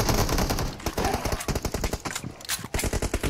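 Rapid automatic gunfire from PUBG Mobile, loud bursts of close shots in quick succession, with a brief gap before the firing resumes.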